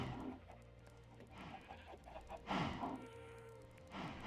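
Chickens clucking in Minecraft Bedrock, a few soft, brief clucks scattered over a quiet game background, no talking.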